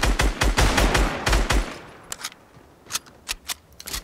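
A Fortnite sniper rifle fires in rapid bursts of sharp, loud shots early on, then a few scattered single cracks follow over a quieter background.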